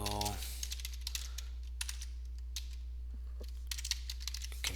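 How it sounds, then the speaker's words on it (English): Rapid keystrokes on a computer keyboard as router configuration commands are entered, with tab pressed for auto-completion; irregular close clicks over a steady low hum, with no talking. "I'm typing like part of the command, just hitting tab, and it finishes it for me"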